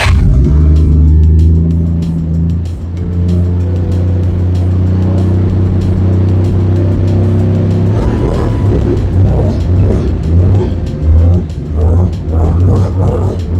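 A 1961 Studebaker Lark with a weak battery cranks and fires, then settles into a loud, steady low rumble, with choppier revving bursts in the second half; no voices.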